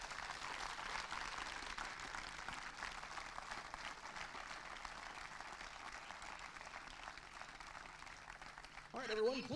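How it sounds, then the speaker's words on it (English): Crowd applause at a North Dakota Class A State Legion baseball tournament game, honoring an airman: steady broadband clapping spread across the stands for the whole stretch, with an announcer's voice cutting in at the very end. "Please join us in giving Airman Mickelson a big round of applause to thank her for her service"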